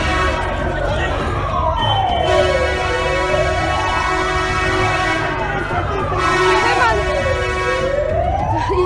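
A loud fire engine siren wails, sweeping slowly up and down in pitch, close by and continuous, with a few shouted Turkish words over it after an earthquake.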